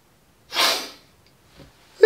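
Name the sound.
sneeze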